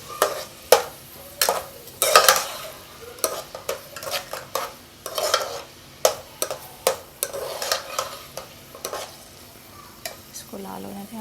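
Chopped onion frying for Hyderabadi dum ka qeema, stirred with a utensil: repeated sharp scraping and clinking strokes in an irregular rhythm over a soft, close sizzle.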